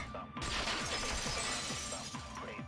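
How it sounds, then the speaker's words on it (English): Window glass shatters in the Danganronpa 2 video game: a sudden loud crash breaks in early, followed by a sustained bright, noisy spray of breaking glass over a low tonal background. "heard the sound of the window shattering"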